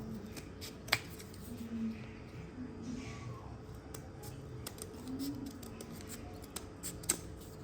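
Scissors snip through Teflon tape at close range, a few sharp isolated clicks spread across a quiet room with faint background hum.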